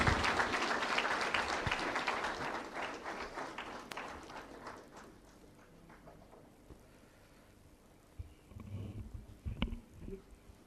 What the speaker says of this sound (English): I request you to again give a big round of applause for a person.